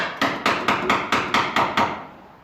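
Eight quick, evenly spaced hammer taps knock a slab-wood furniture joint tight, each a sharp, close, ringing knock, fading out after the last blow.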